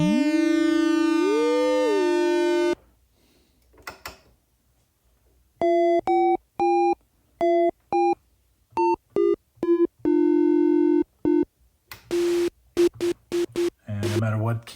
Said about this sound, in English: And we can hear that sine.